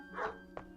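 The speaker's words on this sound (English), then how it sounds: "That's Bill Soames' collie." A collie, a neighbor's dog that often comes around, gives two quiet barks a moment apart against a steady background hum.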